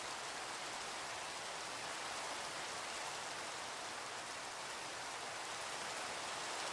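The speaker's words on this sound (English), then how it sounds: "It's not enough that it's raining." Rain in the Minecraft video game pours as a dense, even hiss with no pauses, loud and unbroken throughout, with no voices over it.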